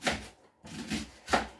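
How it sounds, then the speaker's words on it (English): A knife slices through an onion on a cutting surface at home, three soft separate crunching cuts spaced across a short moment, close and quiet with no talking. "So I'm going to do now is to cut this onion into pieces."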